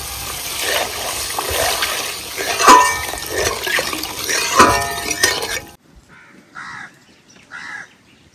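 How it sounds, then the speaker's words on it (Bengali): Water poured into a hot pan of oil with turmeric and spices for a village-style silver carp fish curry: a loud, steady rushing splash for about six seconds, then quiet with crows cawing in the distance. "আমি জল দিয়ে দিই।"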